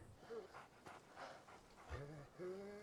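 A dog in a Chernobyl TV drama episode whimpers and pants in short, faint breaths and whines, broken by brief pauses.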